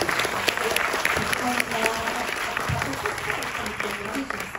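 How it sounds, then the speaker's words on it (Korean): Audience applause at a film festival screening talk in Jeonju, a steady, dense crowd clapping with scattered louder claps and faint voices mixed in throughout. "큰 박수 부탁드리고"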